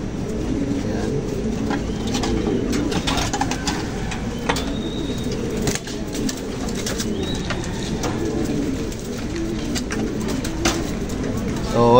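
Pigeons cooing inside an improvised cage with a trap door, soft throaty coos repeating over a constant rumbling background, with people talking throughout.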